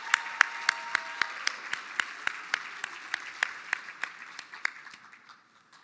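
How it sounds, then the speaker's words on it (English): Audience applause for the Chief Justice at the Mille Lacs Band of Ojibwe State of the Band address, a thinning crowd whose few distinct, rhythmic claps ring out and gradually fade to silence. "how about one more round of applause for our Chief Justice"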